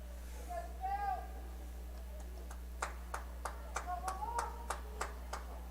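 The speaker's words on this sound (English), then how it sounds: "Encouragement from the crowd." Scattered crowd claps and encouragement at a minor-league baseball game between High Point-Thomasville and the Carolina Disco Turkeys, a sparse run of sharp individual claps in an open ballpark over steady background hum.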